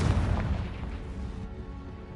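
Confringo and Bombarda explosion spells cast in a video game, one heavy low boom that rolls out and then fades into a steady rumble.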